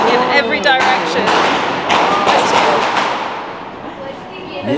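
Diwali fireworks and firecrackers bursting all over a city, inside and outside buildings, as a dense, continuous clatter of pops and thuds with sharp cracks, loud and close, with voices talking over it.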